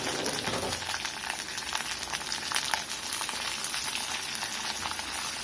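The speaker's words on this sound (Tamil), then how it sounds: "எல்லாத்தையும் நல்லா வதக்கி எடுத்துக்கலாம்." Garlic, onion and tomato sauté in a pan for a garlic chutney, giving a soft, continuous sizzle and crackle heard alone at low volume.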